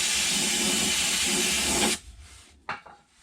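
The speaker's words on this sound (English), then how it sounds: "Just take a little bit of brake parts cleaner." Brake parts cleaner sprayed from an aerosol can during an oil change on a Honda Pioneer 700: a loud, close, continuous hiss for about two seconds that cuts off abruptly, followed by a brief faint clunk.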